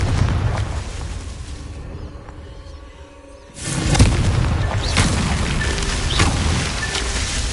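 In the game Hogwarts Legacy, a Confringo blasting spell goes off: after a short hushed lull, a loud fiery explosion bursts out and rumbles on with crackling debris.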